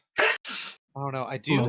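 A single close, sharp sneeze in two bursts, followed right away by people talking.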